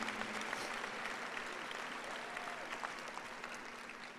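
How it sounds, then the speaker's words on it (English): A large crowd at a college commencement in the Crown Coliseum applauds staff and faculty, a broad, continuous wash of clapping echoing through the arena, fairly distant and steady, with a faint tonal hum beneath. "I'd like you to give an applause for all of our staff members and faculty who have worked in concert with the Crown to provide this opportunity for you."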